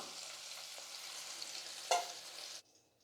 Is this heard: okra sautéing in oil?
yes